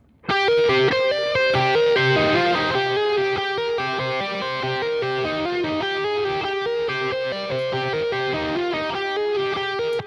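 An electric guitar plays a distorted lead line through the Archetype Nolly X amp plugin, with a subtle delay trailing the notes. It runs steady and clear for about ten seconds with no talking.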